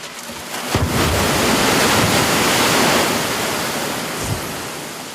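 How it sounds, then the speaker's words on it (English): A huge man-made tsunami, waves over 3 meters high driven by a lab wave machine down a 180-meter chute, roars as a loud, sustained broadband rush of water that swells and slowly fades. "This machine can generate waves more than 3 meters high, propelling 300 cubic meters of water down a 180-meter long chute."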